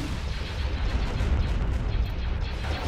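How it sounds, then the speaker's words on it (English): Ion cannon fire in the Star Wars Empire at War space strategy game, a dense rumbling barrage of heavy booming blasts that rolls on continuously and loudly for a few seconds. "Ion cannon firing."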